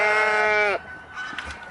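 A young kid goat in a farm nursery pen gives one loud, close, sustained bleat with a wavering tone, and it breaks off abruptly. Faint rustling and quiet background noise follow.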